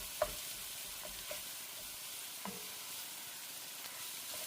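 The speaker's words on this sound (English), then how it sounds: "Now I'm going to break that apart and continue cooking and browning the meat." Ground meat being broken apart and browned in a pan for a fall soup, a soft steady sizzle with occasional light spatula taps, fairly quiet and continuous with no voices.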